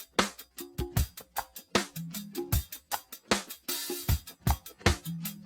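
Hard-knocking drum loop for a beat, punchy kicks and snappy hits in a tight repeating rhythm with a low bass line underneath, dry and up front with no talking.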